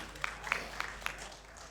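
A mushaira audience in Prayagraj gives a poet faint, scattered applause, with a few distinct claps standing out over a quiet hall.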